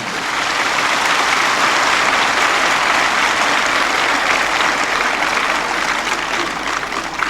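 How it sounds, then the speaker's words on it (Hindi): Loud, dense audience applause fills the whole stretch, a steady wash of many hands clapping at once with no speech over it. "ताली वही बजाए जो जाति को छोड़ पाए। एक बार जोर से बजाइए।"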